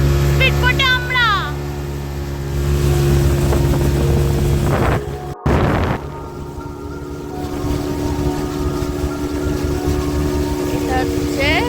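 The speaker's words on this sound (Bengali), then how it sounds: "স্পিডবোটে আমরা।" A speedboat on a dam lake, its engine droning loud and steady under wind rushing past the microphone, with a brief gap partway through and people talking over the motor.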